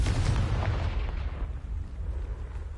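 In Hogwarts Legacy, a Confringo blast spell erupts as one loud, booming explosion that rolls off into a fading rumble.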